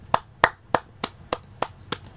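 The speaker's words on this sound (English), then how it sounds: "Let me clap that up." A single person claps their hands eight times in a steady, evenly spaced rhythm, each clap sharp and close, with no talking.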